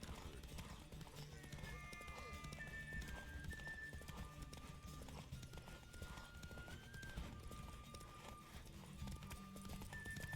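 Hooves clip-clop rapidly as a horse gallops in The Witcher 3 video game, with whinny-like neighs over steady game music and faint background speech.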